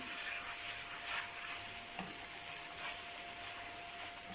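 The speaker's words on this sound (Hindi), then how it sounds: "और अब इस मसाले को अच्छी तरह भूनते हैं" Onions and masala fry in a pan with a steady close sizzle, broken by a few scraping stirs, for an aloo baingan dish.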